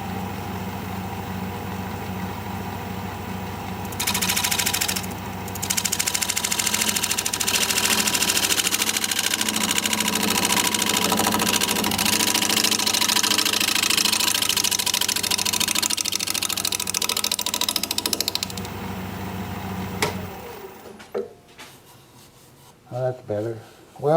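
Wood lathe spinning up to about 800 rpm while turning a decayed wood piece, a steady loud motor whine and rumble that holds for most of the span, then drops to quieter scattered workshop noises at the end.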